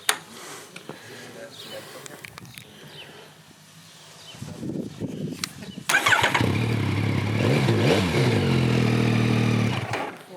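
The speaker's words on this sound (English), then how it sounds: "Well, actually, let's turn it on." A Yamaha XSR900 motorcycle with a custom exhaust cranks and fires up, then settles into a loud, throaty idle with a few blips; faint clatter and quiet sounds come before it starts.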